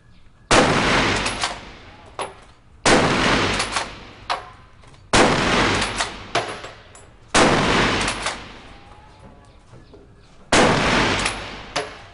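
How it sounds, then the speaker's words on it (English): A Krag bolt-action rifle fired rapidly from its internal magazine, five loud, sharp shots roughly two seconds apart, each with a long ringing echo trailing off. "you'll see an increased rate of fire here when the gunnery sergeant uses the internal magazine to rapidly bring a round under the trigger"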